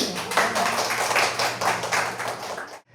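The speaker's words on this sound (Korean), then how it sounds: "큰 박수로 맞이해 주시기 바랍니다" An audience claps steadily to welcome a composer-conductor onto a stage, an even, moderately loud round of applause that stops abruptly at the end.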